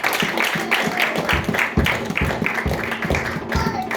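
A church congregation claps in response to the word of God, sharp irregular claps and taps repeating steadily for several seconds in a reverberant room.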